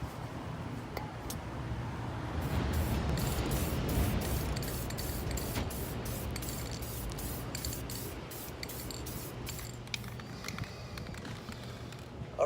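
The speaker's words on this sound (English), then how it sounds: "You want to spray it, allow it for it to dry, and then apply a little bit more." Plastic trim restorer is sprayed onto the bumper of a 2019 Lexus ES 350 in a series of short, rapid spray bursts, about a dozen evenly spaced hisses, close and fairly loud over a low background hum.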